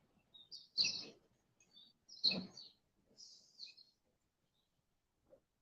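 Birds chirp in a tree outdoors, in a few bright bursts of short tweets separated by pauses, at moderate volume and a little distant, with no talking.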